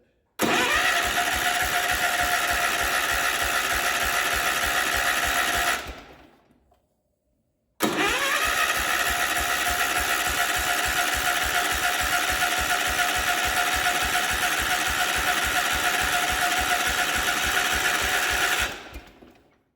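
Engine of a barn-find one-owner 1967 Gravely 430 tractor cranking on the starter while the fuel pump primes, two long steady rhythmic churning runs, each about six to eleven seconds, separated by a short silent pause without firing.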